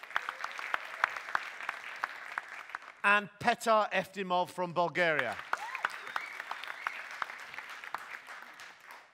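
Audience applause for science-communication competition finalists at a FameLab International semi-final, steady clapping throughout while someone speaks briefly over it midway.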